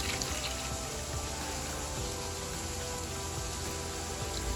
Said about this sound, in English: I'm gonna be adding about 6 to 7 cups of water